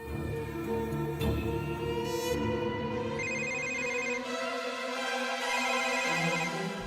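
A phone ringtone plays continuously, a bright repeating melodic tone sounding loud and close, with no one speaking over it.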